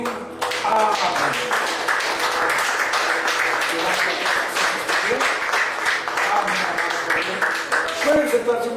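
A church congregation claps together in a long burst of applause offered as a spoken act of worship, the dense, lively clapping filling the room and continuing steadily for several seconds.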